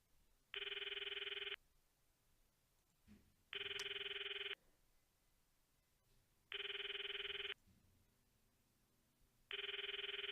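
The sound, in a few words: phone ringing in Steins;Gate video game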